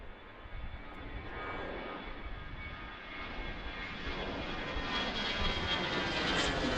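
An arriving jet airliner approaches Washington Reagan National Airport, a broad roaring engine rumble that swells steadily louder and nearer, with a rising whine toward the end and no talk.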